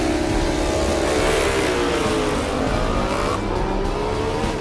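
Ducati motorcycles racing up the Pikes Peak International Hill Climb mountain course, a loud continuous engine roar rising and falling in pitch as the bikes accelerate nearby.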